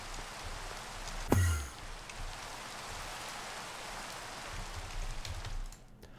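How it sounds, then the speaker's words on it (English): Steady rain falls in the Minecraft Enigmatica 2 modpack video game, a constant hiss of drops that stays even and moderately quiet, with one brief sharp knock near the start and no talking. "Yay, rain. Everybody loves rain."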